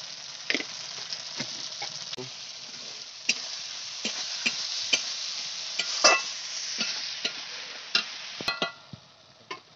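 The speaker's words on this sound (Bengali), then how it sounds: "আমার মশলাটা কষানো হয়ে গেছে" Spice paste of ground cumin and black pepper with turmeric and salt being stir-fried for a village-style chicken curry, giving a steady close sizzle broken by repeated sharp scrapes of a spatula against the pan.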